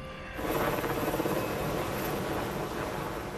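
A navy ship's helicopter in flight gives a loud, steady rotor and engine roar that rises quickly after a brief quieter start and then holds close and continuous, with no voices.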